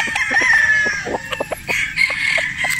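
A Boston Roundhead rooster with a straight comb crows loudly and close by, with a drawn-out crow over brief clucks and rustling and no talk.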